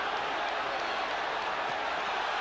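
A boxing arena crowd rises and cheers at a Felix Trinidad versus Hugo Pineda fight, a dense, loud wall of roaring and clapping that holds steady throughout.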